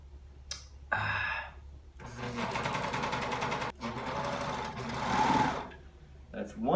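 Sewing machine stitching a sleeve onto a T-shirt in short bursts: a rapid mechanical whir that starts, pauses briefly and runs again at close range, with a soft voice and breaths in between.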